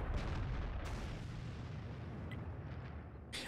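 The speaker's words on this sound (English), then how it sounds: "So we'll take a shot. We'll see our shot come in there." Artillery firing in World of Tanks, a heavy deep boom at the start that rolls into a sustained low rumble, with brief sharper bursts later on.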